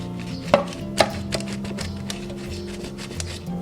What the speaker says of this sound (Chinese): 然后用叉子在表面擦出小口